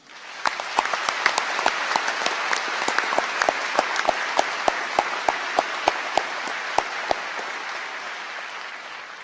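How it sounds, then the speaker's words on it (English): A university commencement audience applauds the board members in a large hall, a broad sustained roar of clapping with distinct sharp claps standing out near the microphone, rising quickly and holding for about nine seconds. "Please join me in a round of applause for the board members."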